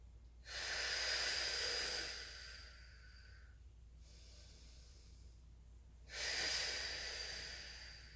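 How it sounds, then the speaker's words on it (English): Two hard, forceful exhales through the nose and mouth during a mobility breathing exercise, a long breathy rush near the start that tapers off, then a second strong blast after a quiet pause, close up with no talking. "So working on those hard exhales kind of sets me up for a better belly breath next round."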